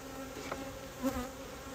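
Honey bees drone softly and continuously during a hive inspection, a faint steady buzz with a slightly louder pass about midway.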